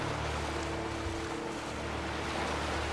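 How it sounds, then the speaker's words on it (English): Ocean waves wash steadily over the water in the video game Skyrim, a soft continuous surf with a low hum beneath, calm and unbroken throughout. "The wave sound effect is just really relaxing."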